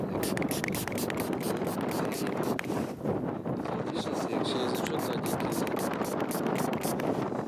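Steady, heavy wind buffeting the microphone, a constant roaring rumble with a brief voice in the middle.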